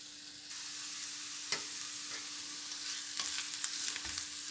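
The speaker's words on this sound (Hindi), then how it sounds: "अब इन्हें फ्राई करते हैं।" Thin karela peels fry in oil in a pan, making a soft, low sizzle that starts abruptly and carries a few faint stirring clicks near the end, with no talking.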